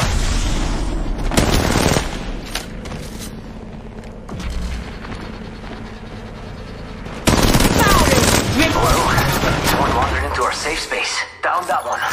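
Sustained automatic gunfire and explosions in Apex Legends Mobile, loud and close, dropping briefly then surging again in heavy bursts, with a voice calling out over the action.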